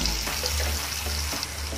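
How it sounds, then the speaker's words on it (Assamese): Onions frying in a pan until brown, a close, continuous sizzle with faint stirring scrapes and no talk. "যেতিয়ালৈকে বাদামী ৰং নহয় তেতিয়ালৈকে মই অকণমান ভাজি ল'ম"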